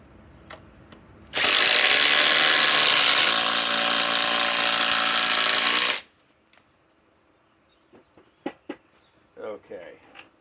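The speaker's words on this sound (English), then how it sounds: "now let's run the 4-inch timber locks" Impact driver running a 4-inch timber lok screw, one continuous loud hammering whine for about five seconds that stops abruptly, followed by faint clicks and handling noises.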